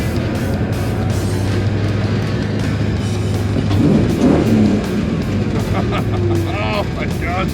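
Exhaust note of a 1970 Dodge Coronet with a swapped 6.1 HEMI V8, a steady loud rumble from inside the car that swells briefly as it accelerates, with a voice talking over it.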